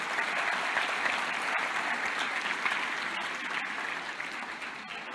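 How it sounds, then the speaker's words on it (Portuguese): A church congregation applauds during a sermon, a steady, full burst of many hands clapping together that holds evenly throughout without any talking over it. "Você pode aplaudir Jesus por essa palavra?"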